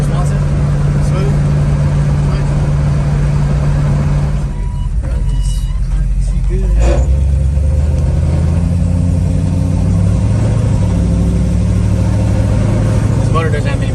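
A car engine runs steadily while driving, a loud low rumble with a brief shift in tone midway, with road noise underneath.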